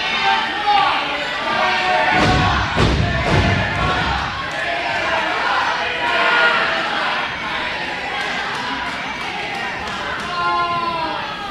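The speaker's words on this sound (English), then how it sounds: "The crowd is chanting tater tot at David Forrest" Wrestling show crowd chanting "tater tot" at wrestler David Forrest: a large audience roars and chants in a reverberant hall, with a few thuds early on and an announcer talking over it.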